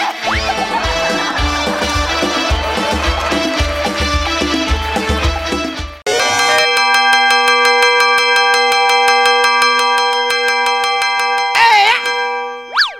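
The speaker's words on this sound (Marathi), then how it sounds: "काय घंटी वाजाडतो रे?" Music with a steady beat gives way to sustained, ringing bell tones that hold and shimmer for several seconds, fairly loud.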